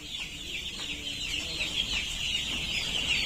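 Many young poultry chicks held in brooding partitions on a day-three poultry farm chirp constantly, a dense, loud, overlapping chorus of high peeps close by with steady farm background noise.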